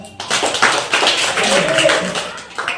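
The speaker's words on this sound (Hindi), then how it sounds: "पहले तो इसके लिए ताली बजा दो।" A primary classroom of children clapping during a lesson, a lively burst of many small hands clapping, mixed with children's voices and chatter, fading briefly near the end.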